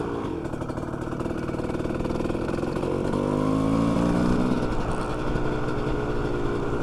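A two-stroke dirt bike engine drones close and steady, its pitch sliding through gear changes as the rider slows and downshifts, with no voices.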